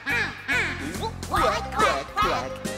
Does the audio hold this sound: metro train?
no